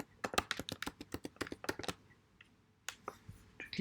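A computer keyboard struck in quick bursts while a login ID and password are entered, with a fast run of crisp keystrokes, a pause, then a few scattered final presses, close and fairly quiet with no voice.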